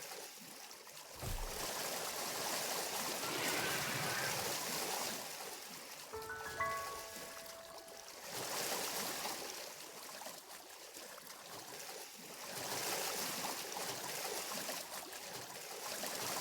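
Flowing water in the Palworld video game, a soft continuous rushing wash that swells and eases in waves, fairly quiet, with a few brief tonal game chimes partway through and no talk.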